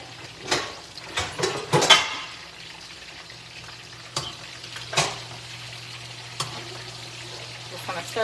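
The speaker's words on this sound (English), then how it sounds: "Just gonna stir those around a little bit." Chicken wings fry in a pan with a steady low sizzle, while several quick scraping and clanking stir strokes rise above it near the start and again toward the end.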